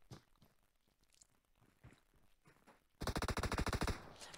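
Automatic gunfire in PUBG Mobile, a rapid burst of roughly a dozen loud, evenly spaced shots that starts suddenly after quieter background game sound with faint voices, then tails off.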